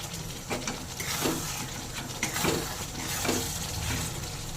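Shankar fish masala being stirred in a pan, soft sizzling underneath with a few distinct scraping strokes of the spoon spaced about a second apart, close and moderately loud.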